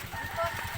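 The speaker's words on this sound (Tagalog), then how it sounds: "May manok pala doon." A chicken clucks briefly and faintly in the background, a short soft burst of fowl sounds with no one speaking over it.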